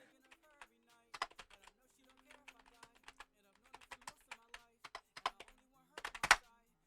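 Quick, irregular clicking from a computer keyboard comes in bursts of keystrokes, close and fairly quiet, with a sharper flurry near the end and a faint voice in the background.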